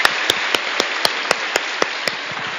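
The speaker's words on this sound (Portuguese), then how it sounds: "vamos dar mais uma bem forte salva de palmas" Audience at a church conference clapping in a brief round of applause, with sharp, fairly regular individual claps standing out over a continuous wash of hands, steady and moderately loud throughout.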